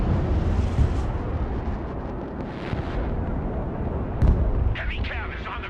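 Rocket artillery fire from an MLRS in the video game Broken Arrow: a dense, continuous roar of launches and blasts with sharper bursts near the start, middle and end, loud and close, with talk underneath.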